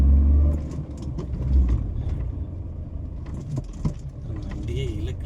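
A vehicle engine labours up a steep slope, its low rumble loud and steady with strained surges, while mechanical rattles and jingling sounds ride over it.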